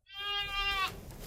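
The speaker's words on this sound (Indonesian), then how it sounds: "lengkingan seekor kambing yang terperangkap dalam sebuah sumur kosong" A goat bleats once from inside an empty well, a single loud, strained, quavering cry lasting most of a second before breaking off, with faint background noise after.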